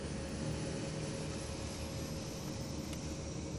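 An airliner on the runway for takeoff roars with a steady, loud engine drone and a faint whine, running continuously with no speech over it.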